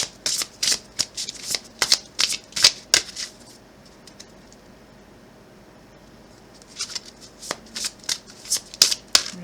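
Oracle cards riffled and shuffled by hand in bursts of quick, crisp flutters, a quiet pause in the middle, then more rapid shuffling, close and fairly loud with no talk.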